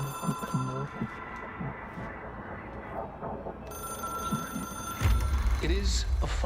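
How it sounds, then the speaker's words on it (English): An in-game telephone rings with a repeating electronic bell tone that carries through the whole stretch, while people talk over it. "It is a phone."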